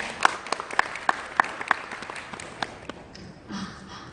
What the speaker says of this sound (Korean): 다시 한번 큰 박수로 환영 부탁드립니다.